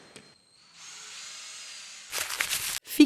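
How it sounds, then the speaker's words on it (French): Power drill boring into a floor to anchor staircase brackets, a steady whirring run for over a second followed by a louder, grittier burst as the bit bites, ending with a sharp knock. "Reculez l'escalier, le temps de percer le sol, d'engager les chevilles et de visser les équerres au sol."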